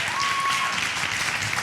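Studio audience applause during a Spanish cooking interview segment, a steady wash of clapping with a faint whistle near the start, moderately loud and continuous.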